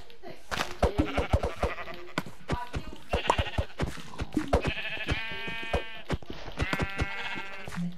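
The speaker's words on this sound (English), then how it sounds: "1 minute, let me get these sheep." Sheep in Minecraft bleat repeatedly in short wavering calls, several overlapping and close at hand, with clicky game sounds between them.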